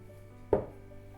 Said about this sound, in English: the soaps are nice and hard now, and they're ready to pop out of the molds